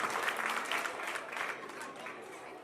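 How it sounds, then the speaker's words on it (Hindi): Dense applause from a crowd at a school annual awards ceremony fills the whole stretch, steady and moderately distant, with a few voices mixed in. "जोरदार तालियां के साथ में स्वागत है इनका"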